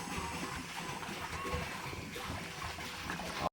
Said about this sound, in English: We've been doing this all morning to fill up our water tank.